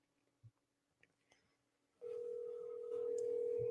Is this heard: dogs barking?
no